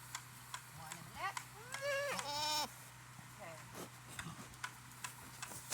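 Goats bleating during a cattle vet day: a couple of loud, wavering bleats close by, mixed with faint clicking and background noise, while people talk quietly.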